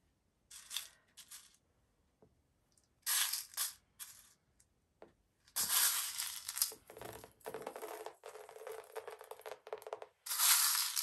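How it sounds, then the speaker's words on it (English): Gold crushed glass pieces are added to a glitter art piece, giving scattered bursts of crisp clinking and crunching that come in short clusters with quiet gaps between them, close and fairly soft. "And I'm going to add a lot of the crushed glass this time, just because of this design."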